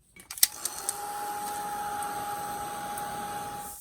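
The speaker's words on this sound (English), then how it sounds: "I'm just going to hit this with the heat gun and dry it off." A heat gun drying paint on altered flashcard tags starts after a few clicks and then holds a steady, loud, close whirring blow for several seconds, with no talking.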